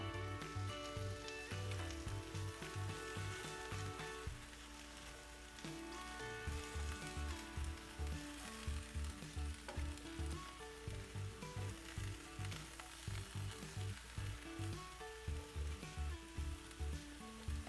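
Chicken casserole ingredients with dried sage, thyme, salt and pepper cook in a pan, with a steady close sizzle. Rhythmic low thumps run through it, and no one speaks.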